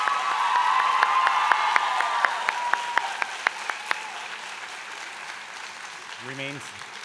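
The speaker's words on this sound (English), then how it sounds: "I know this will get a huge round of applause and cheers" Applause for standing faculty at a college convocation ceremony, a broad wash of clapping that fades gradually, with a voice speaking over it and a short burst of talk near the end.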